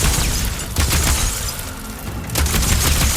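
Gunfire in the game Horizon Forbidden West: loud bursts of shots and booming impacts in two clusters, separated by a brief quieter gap, with no voices.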